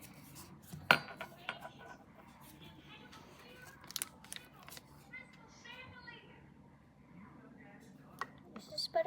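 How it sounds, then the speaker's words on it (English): A butter knife cutting potatoes while cooking mashed potatoes: light, irregular clinks and scrapes of metal against a dish, fairly faint, with children talking throughout. "You're gonna wanna get the butter knife ready, and then cut right on that line."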